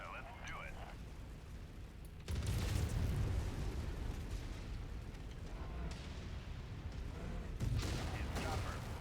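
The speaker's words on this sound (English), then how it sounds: "Someone's either shooting over here" Video game gunfire in a mech combat game, a loud sustained barrage of shots and rumbling blasts that stays steady for several seconds and swells again near the end, with no voices over it.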